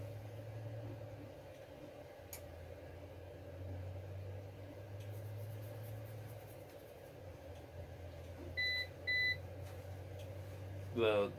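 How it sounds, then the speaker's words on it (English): An APC UPS 450VA (BN450M) battery backup running on battery after being unplugged gives two short, sharp buzzer beeps over a faint steady hum, with quieter handling noise around them. "The buzzer isn't as annoying as the older generation ones"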